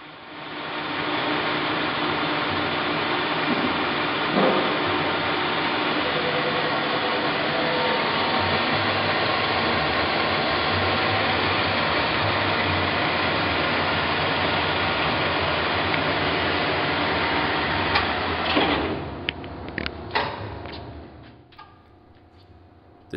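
A heavy-duty Mori Seiki MS1250 engine lathe, 17 by 50 inches, runs with a loud, steady mechanical hum and whir for about twenty seconds, then winds down with a few clanks near the end.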